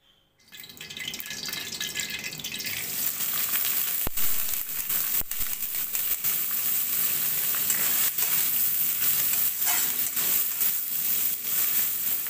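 Anchovies (teri) frying in a pan, a loud continuous crackling sizzle that swells in the first few seconds and holds steady with occasional sharp pops.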